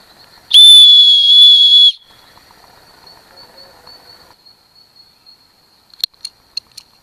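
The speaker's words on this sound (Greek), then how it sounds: "Αυτή η σφυρίχτρα που είναι ενσωματωμένη πάνω σε ένα κλιπ παράγει 95 δεσιμπέλ." Survival whistle mounted on a clip, rated at 95 decibels, gives one loud shrill blast of over a second, followed by quiet handling and a few small metallic clicks.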